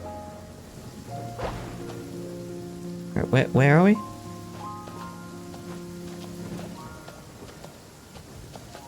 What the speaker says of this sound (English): I think it's raining on purpose.